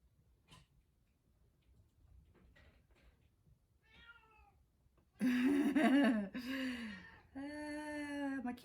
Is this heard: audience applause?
no